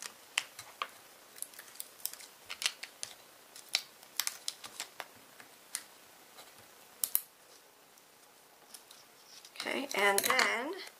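Tear tape peeled off a handmade card box, a light series of soft ticks and short scratchy tugs close by, ending in a brief louder rustling rip.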